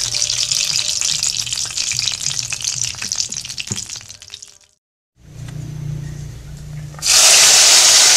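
Red chilies, bird's eye chilies, shallots and garlic sizzle and crackle in hot oil with steady stirring, then a brief near-silent pause before the frying resumes and swells into a loud, bright hiss.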